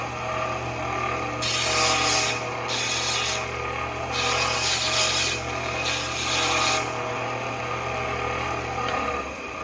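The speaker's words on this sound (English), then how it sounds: "So that's one side deburred. The other side's got a pretty gnarly burr on this stuff." An aluminum motorcycle peg cover being deburred with a hand tool: several bright rasping strokes in short bursts, close up, over a steady low background hum.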